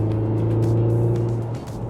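A Mini Countryman JCW pulls steadily up a gentle incline toward 100 km/h, its engine a sustained, close, even drone with road noise underneath, easing slightly near the end; no one speaks.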